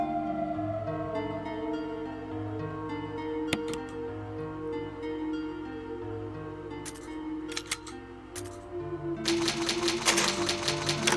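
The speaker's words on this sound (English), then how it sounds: "there's a typewriter in here somewhere" Typewriter used to save in Resident Evil, sharp mechanical key clacks and bursts of rapid typing over a sustained low musical drone, growing busier toward the end.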